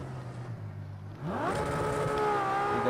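Project CARS 2 race car engine: a lower idle-like hum, then a sudden surge as revs sweep sharply upward into a loud, sustained high-pitched roar.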